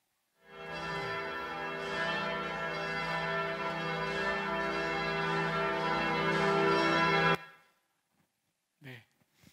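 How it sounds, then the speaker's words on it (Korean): A large church bell in a town rings out loud and sustained, one long resonant ringing tone that hangs for several seconds before cutting off, with brief faint sounds after. "그 교회들이 매일 정해진 시간만 되면 그 동네가 떠나가라 종을 칩니다."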